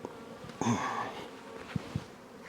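A bee buzzes close around a person's head outdoors, a brief rising drone passing near the ears amid faint background sounds and a couple of soft knocks.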